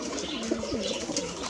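A pair of Deshi Giribaj pigeons coo in a home loft, low rolling calls close by with other birds murmuring around them in a dense, busy background.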